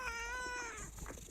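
A cat meows once in a short, drawn-out, tonal cry, close and fairly clear over a low background rumble, fading at the end.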